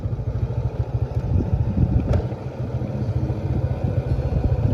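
A motorbike rides into a town in Laos, its engine a steady close rumble with slight fluctuations and occasional clatter, continuous throughout with no talk.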